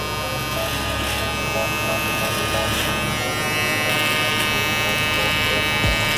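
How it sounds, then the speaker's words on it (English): An electric hair trimmer buzzes steadily and close during a mid fade haircut, as the edge is cut near the neck above the Adam's apple. The hum is continuous throughout, with someone talking over it. "The reason why I'm using this trimmer as well is because it is not zero gap and it's gonna be a lot smoother"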